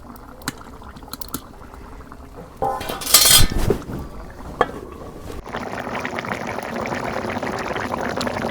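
Fried small fish being added into a simmering curry pot, with metal utensil clinks and scraping, a brief loud splash and sizzle midway, then steady bubbling liquid, close by and without talking.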